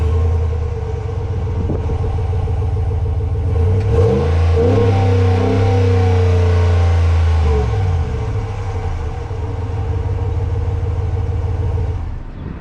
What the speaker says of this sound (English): Alright, so driving this Ram, it rides pretty well.